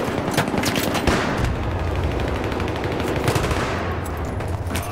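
Rapid, dense automatic gunfire from the video game Battlefield 3 crackles loudly and almost without pause, overlapping bursts forming a continuous fusillade with no talk.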